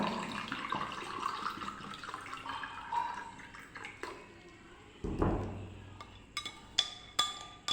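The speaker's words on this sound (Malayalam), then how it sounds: "തണുത്ത വെള്ളം ഒഴിക്കുക" Cold water is poured into a glass of homemade carrot juice, a short, close splash and gurgle that comes after some quiet handling clinks, with a few small knocks near the end.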